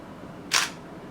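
Nikon D7000 DSLR firing a single frame in regular shutter mode: one short, crisp mechanical clack lasting a fraction of a second, close and clear over a faint, quiet background.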